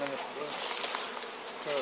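A swarm of bees buzzes in a dense, steady drone close by, with faint voices of people working the swarm at the start and end.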